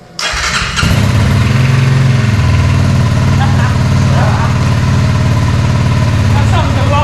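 A Honda CRF motorcycle, just fitted with a swapped engine, cranks and fires up, then settles into a loud, steady, close idle with a throbbing low rumble. People talk over the engine.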